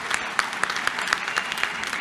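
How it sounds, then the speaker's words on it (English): Warm applause from a convocation audience after a choir performance, a steady dense wash of clapping with a few sharper nearby claps punctuating it throughout. "Another warm round of applause, please"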